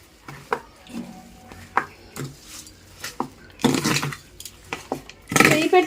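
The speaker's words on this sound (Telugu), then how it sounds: "ఈ తాలింపు అంతా ఈ పచ్చడికి కలిసేలా కలుపుకోవాలండి" A hot tempering is mixed into gongura pickle in a bowl by hand, giving scattered close taps and knocks, then louder wet scraping and squelching toward the end.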